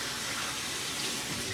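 Tap water runs steadily as hands are washed under it in a kitchen while an omelette is being prepared, a continuous close splashing hiss with no talk.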